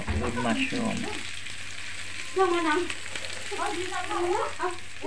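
Pork and mushroom stir-fry in a pan with a continuous close sizzle, while a voice talks intermittently over the frying.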